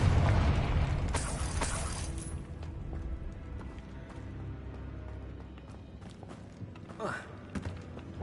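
A Confringo blasting-spell explosion in the video game Hogwarts Legacy opens with a loud, booming burst, then trails into a rumbling, crackling tail with a few scattered sharper pops near the end.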